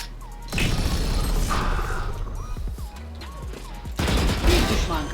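Sustained heavy machine-gun fire from the Odin in the tactical shooter Valorant, a dense loud rattle lasting several seconds with a brief lull near the middle and a louder burst toward the end.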